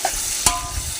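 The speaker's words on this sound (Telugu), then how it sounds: "అవన్నీ ముందు వెజిటేబుల్స్ అన్నీ ముందు బాగా వేగినాక టమాటాస్ వేసి వేయించాలి." Vegetables and tomatoes frying and being stirred in a pan for sambar, a constant close sizzle with one brief spatula scrape partway through.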